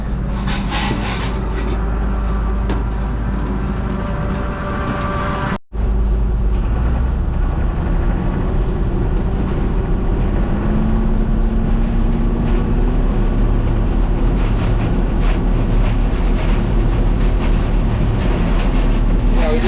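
A worn used belt on a combine harvester's belt drive spins, making a loud, steady mechanical rumble with rhythmic clattering and whirring close by and a brief dropout partway through.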